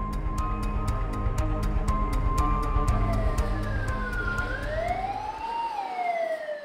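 A fire truck siren wails at Seomun Market in Daegu, moderately loud with rising and falling sweeps over steady traffic rumble and rhythmic clicking.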